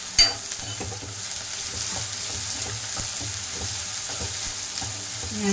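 Onion sautés in a pan with a low, continuous sizzle and soft, periodic stirring scrapes, plus one brief knock near the start, with no one talking.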